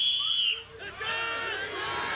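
A referee's sharp whistle blast signals the start of a deadlift machine event at the 2023 World's Strongest Man, followed by a crowd's rising cheers and shouts.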